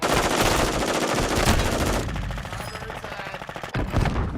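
Automatic gunfire rattles in dense, rapid bursts in a DMZ military-simulation video game, loudest over the first two seconds, then continuing a little lower with another heavy burst near the end.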